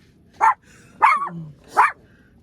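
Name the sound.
dog barking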